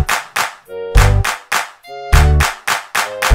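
Rhythmic hand claps from a children's clapping game song in a Barney musical episode, landing in an even pattern of sharp bursts over a tuned musical backing.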